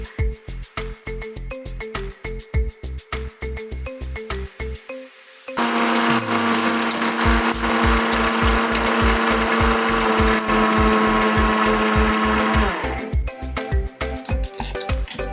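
A mixer grinder blends bisibele bath spice powder with grated dry coconut: a run of rapid short pulses, then a loud, steady whirring grind for about seven seconds, before choppy pulsing resumes. No one speaks.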